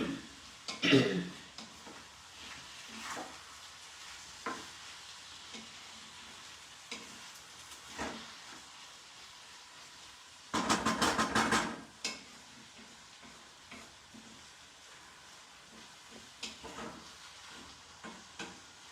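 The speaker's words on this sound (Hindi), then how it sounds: "और मसाले को मिलाते हुए इसको भून लेंगे" Spices with garam masala powder being stirred and fried in a pan: a steady low sizzle broken by scattered spatula scrapes and knocks, plus a loud burst of clatter near the middle.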